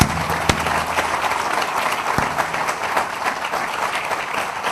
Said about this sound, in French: Sous vos applaudissements, s'il vous plaît, Steven Aff.